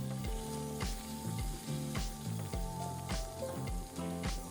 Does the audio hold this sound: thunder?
no